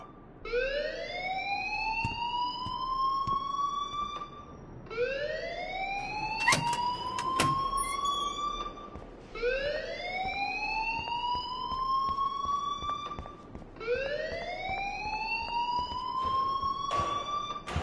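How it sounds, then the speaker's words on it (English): Alarm siren from the video game Life is Strange Remastered, four rising wails each sweeping upward over about four seconds, loud and continuous with brief clatter between cycles and no talk. "please turn off that alarm"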